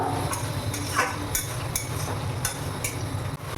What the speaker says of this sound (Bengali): পেঁয়াজটাকে দিয়ে দিয়েছি। এবার আমি এটাকে হালকা করে নেড়ে নেব।